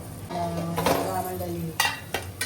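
A metal lid goes onto a cooking pot of simmering masala for dal mutton mundi, landing with two sharp clanks late on, over a soft kitchen background and faint speech.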